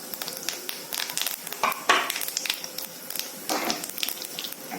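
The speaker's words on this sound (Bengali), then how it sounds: "এবার ওই তেলে আমি ফড়ং দিয়ে দেব, গোটা গরম মশলা আর একটু জিরা" Whole garam masala spices and cumin dropped into hot oil crackle and hiss close by, the sizzle surging in two louder bursts as they land, with a softer frying crackle between them and no talking.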